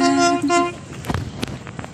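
A train horn sounds in two short honks that fade, followed by scattered clattering and knocking noises in the background beside the railway tracks.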